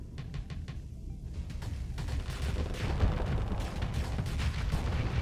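Plasma cannons fire during space combat in the Starsector video game, heard as a dense, continuous barrage of crackling blasts and booming impacts that grows louder and stays busy throughout, with no voices.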